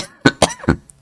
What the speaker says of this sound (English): I've got a cough, as you can tell.